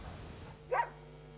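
An abandoned shelter dog in a kennel gives a single faint, short bark amid a low, quiet background hum.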